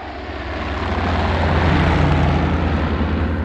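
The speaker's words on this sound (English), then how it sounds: "the reconnaissance plane flying overhead in an earlier episode" Reconnaissance plane flying overhead as a radio drama effect, a loud continuous engine drone with a low rumble that swells slightly and holds steady for several seconds.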